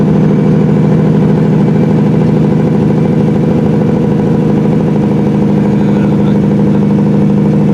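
A loaded super dump truck descends a hill on Highway 121 in sixth gear with the Jake brake fully on, producing a loud, steady engine drone that continues unbroken throughout.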